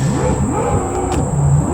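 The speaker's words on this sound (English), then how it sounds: "These guys really love to make the noise. I guess it's the motorcycle of the water." Jet ski engines whine and rev on the water outdoors, a loud droning motor tone with rising and falling pitch sweeps that carries steadily throughout, with no talking in the moment.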